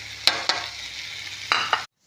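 Tomato chutney with grated coconut is sautéed in a pan, with a soft continuous sizzle broken by four sharp spoon scrapes, two near the start and two near the end, before the sound cuts off abruptly.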